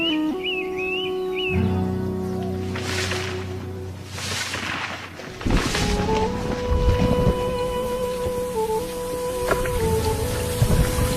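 Monsoon rain falls in a steady hiss beneath a documentary music score, with sustained musical tones and swells over a continuous wash of rainfall.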